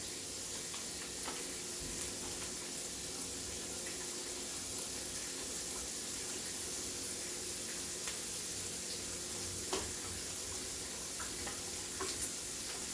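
Gumbo base being stirred into three cups of water in a pot for crab meat gumbo, giving a steady low swishing and bubbling texture with faint clinks, continuous and close, with no talking.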